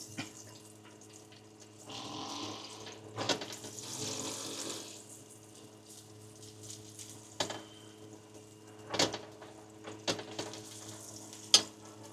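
Onion and a whole head of garlic toasting in a pan, giving a soft, steady sizzle with occasional stirring clatter and faint tap-water sounds, moderately quiet and with no voices.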